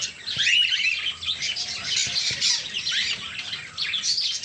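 Repeated shrill calls and chirps from lutino cockatiels, bright and fairly close, coming in quick overlapping bursts with no talking.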